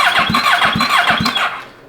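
A 600cc crosskart engine being turned over by its starter at close range: loud, rhythmic whirring cranks repeating about four times in under two seconds, each carrying a whining squeal, then fading out without the engine catching.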